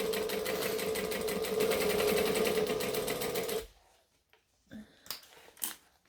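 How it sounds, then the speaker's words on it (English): A sewing machine runs fast and steady while top stitching folded fabric, a close rhythmic mechanical whir lasting several seconds, then it stops and a few soft handling clicks and rustles follow. "Then I'm going to fold this up and over, and I'm going to top stitch it."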